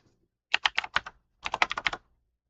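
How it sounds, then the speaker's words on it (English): Two quick bursts of loud keyboard clacking from a computer keyboard sitting right beside the microphone, several sharp keystrokes in each burst with a short pause between. "the clacking of the keyboard was so loud for you guys"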